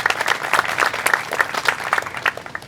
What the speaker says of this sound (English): A round of applause for all those individuals.